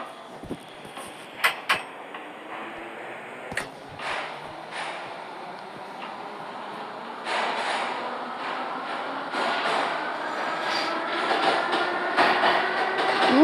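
A metro train runs through a tunnel toward the last station on the line. Its rumble builds gradually from faint to loud, with sharp clanks and squeals of wheels on rail scattered along the way.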